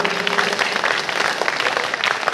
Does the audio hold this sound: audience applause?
yes